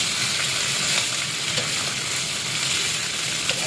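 Shredded cabbage stir-frying in hot oil, a steady dense sizzle and crackle running unbroken throughout, close and fairly loud, with faint scrapes of stirring and no voices.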